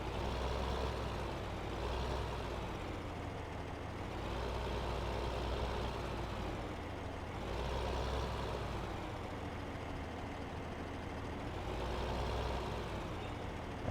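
A tractor in Farming Simulator 15 backing up beneath a short trailer, its engine a steady, low, droning rumble that rises and falls gently in slow waves, with no talk over it.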